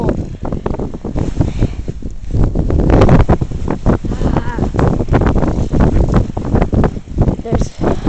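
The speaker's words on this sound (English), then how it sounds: "There's a lot of wind." Strong wind gusts across open snowy ground, roaring and buffeting the microphone continuously at close range, with a person talking over it throughout.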